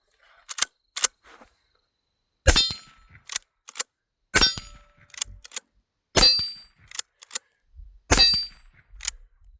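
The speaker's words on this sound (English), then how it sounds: "These are 4 rounds are going down range onto steel." Winchester 9422M rifle shots carrying to steel targets at 50 yards, about four sharp cracks each ending in a bright metallic ring, alone with gaps between them and some smaller clicks.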